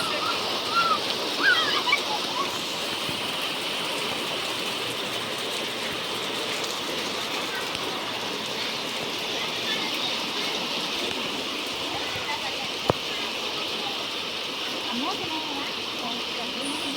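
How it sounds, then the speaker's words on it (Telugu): Steady heavy rain hisses across the whole stretch, a dense broadband wash with occasional louder splashes and a single sharp knock near the end. "మేము చేస్తున్న రోజు వర్షం పడుతుంది ఫ్రెండ్స్"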